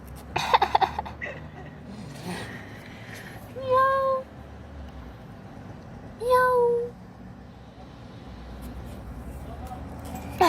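A person imitates a cat's meow twice, drawn-out and tonal, against quiet room background with a brief rustle at the start.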